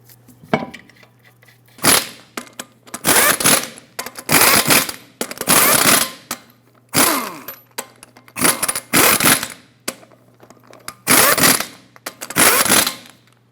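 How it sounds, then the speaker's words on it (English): A torque wrench tightens lug nuts on a 2003-2009 Dodge Ram 2500 wheel to 140 foot-pounds in a cross pattern, giving a series of loud, close ratcheting bursts about a second each, separated by short pauses. "Let's torque these lug nuts to 140 foot-pounds in a cross pattern."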